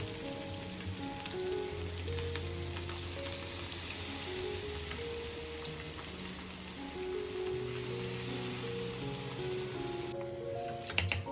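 Fish frying in oil in a pan, a steady close sizzle and crackle that runs throughout, with faint tonal hums and background music underneath.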